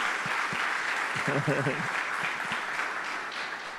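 A church congregation applauds a worship group, a steady wash of clapping with a voice speaking over it and a brief sung or sustained vocal tone partway through.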